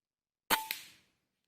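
A toy bamboo popgun is test-fired at a banana leaf, a single sharp close pop followed quickly by a second smaller snap, then silence.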